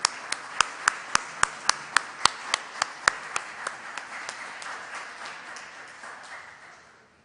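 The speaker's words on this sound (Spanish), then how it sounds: "Les pido un aplauso para todos ellos." Applause for guests of honor at an ophthalmology institute event: a handful of sharp, evenly spaced claps rings out nearby, then fades into a soft, thinning patter of hands.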